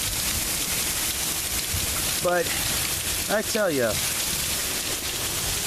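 Rain falls steadily outside as a dense, even patter that holds throughout, while someone speaks briefly over it.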